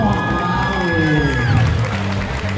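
Spectators at a spicy noodle challenge cheer and clap for a contestant, a steady, loud wash of crowd noise and applause with a voice calling out over it.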